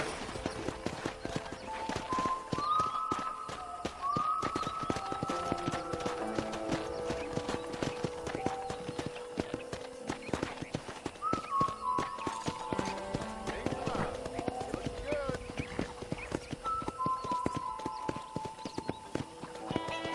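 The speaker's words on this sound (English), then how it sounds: "I picked out a fine horse for you." Horse hooves clip-clop at a steady walking pace in the Red Dead Redemption video game, running beneath a music score and game sounds with an occasional whinny.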